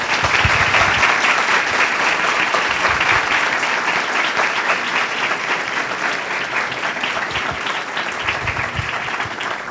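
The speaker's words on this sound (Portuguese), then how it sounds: "uma muito grande salva de palmas para a professora doutora Carolina Pedroso" Large academic audience at an opening ceremony of a model UN event in Brazil applauds a professor taking the stage, a loud, dense, sustained wash of clapping that holds steady throughout and eases slightly at the end.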